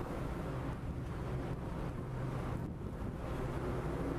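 Wind buffets the microphone on the open deck of a car ferry crossing from Hatteras to Ocracoke, North Carolina, a constant low roar over a dull engine and water rumble with no voices.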